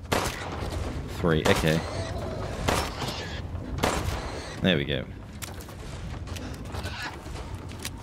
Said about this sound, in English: How many gunshots it can take?